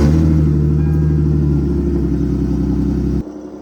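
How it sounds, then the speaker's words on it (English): A Lexus IS300 engine warming up with a steady, loud mid-pitched idle and light revving, cutting off abruptly near the end, with no talk. "while the car gets warmed up"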